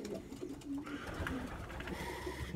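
Racing pigeons coo softly inside a loft, low throaty murmurs repeating over a steady background hum and rustle, fairly close and fairly quiet.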